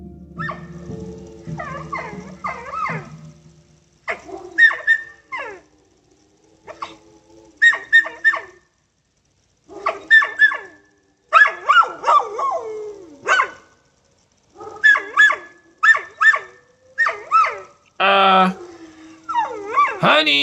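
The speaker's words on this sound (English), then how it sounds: "Mark's dog barked furiously at the figure" Home dog barks furiously at a figure caught on a CCTV camera, a run of loud yapping bursts and whimpers repeated in clusters, mixed with people talking.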